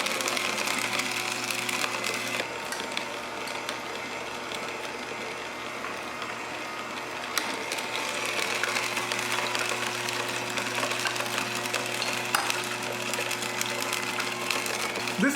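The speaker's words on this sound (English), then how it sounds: "This machine, the slow juicer, I really like it." A slow juicer's motor presses pomegranate, giving a steady, continuous mechanical hum with faint grinding and clicking that stays even from start to finish, close by and with no talking.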